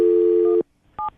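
A telephone line tone on an outgoing call: a steady electronic tone holds for about half a second, stops, then a brief second tone burst follows after a short gap.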